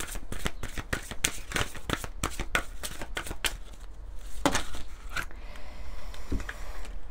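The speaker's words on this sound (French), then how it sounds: "j'ai envie de prendre quelques cartes de l'oracle Lumière de Fée" Lumière de Fée oracle cards are shuffled by hand in a quiet room, giving a series of crisp riffling flicks and soft slaps close by, with a short pause near the end and no speech.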